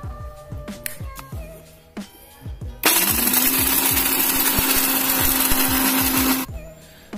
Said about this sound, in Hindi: मम्मी अभी मिक्सर में और कुछ डालना है इसमें